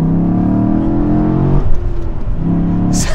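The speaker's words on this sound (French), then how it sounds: "Ça accélère très très fort." A Maloo HVR ute with a Corvette-type engine accelerates hard in a Forza racing game: a loud, close engine note climbs, drops briefly at a gear change, then rises again.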